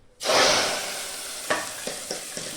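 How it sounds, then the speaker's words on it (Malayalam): Hot tempering with curry leaves sizzles as it is poured into a pot of sambar, a sudden loud hiss that slowly settles into a steady crackle, with a few faint clinks and stirs after, and no one talking. "ഈ താളത്തിൽ നിങ്ങൾ നേരത്തെ ഉണ്ടാക്കി വെച്ച സാമ്പാറിലേക്ക് ഒഴിച്ചു കൊടുക്കുക"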